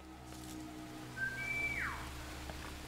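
A character in the video game War Mongrels gives a short whistle, a brief rising-then-falling tone that stands out faintly over a low background hum.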